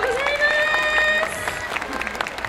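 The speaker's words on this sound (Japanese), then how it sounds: "ザ・ショットに今一度大きな拍手を。" Audience clapping rises at an award ceremony at an Asian festival in Fukuoka, the applause fairly soft and mixed with a sustained tonal sound and some crowd noise.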